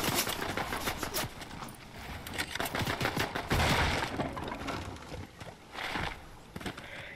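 Video game gunfire during a sniper-only match: rapid bursts of shots and sharp cracks keep repeating throughout, fairly loud and close, with no talk.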